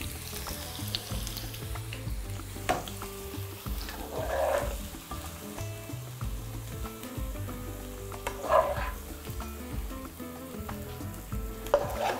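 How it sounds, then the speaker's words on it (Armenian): Oil sizzles steadily as zucchini fries in a pan, with occasional clinks and stirring noises close by. "Հանում ենք սունկը, տապակում ենք ցուկինին։"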